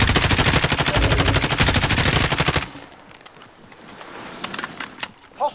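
Rapid automatic gunfire rattles loud and close in the shooter Call of Duty: Modern Warfare, a sustained burst lasting nearly three seconds. It then cuts to quieter ambience with a few faint distant shots.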